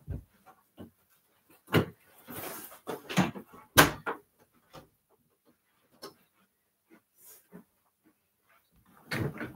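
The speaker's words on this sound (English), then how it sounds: "I'm going to close the door." A door is pushed shut in a room during a home live stream, giving a single solid thud among several scattered knocks and bumps, with no talking.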